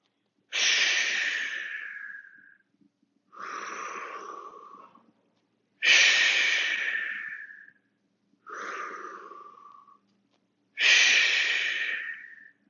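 A fitness class breathing in rhythm: five long, audible breaths, strong exhales alternating with softer inhales, each lasting about two seconds and separated by short pauses, close and clear with no talking.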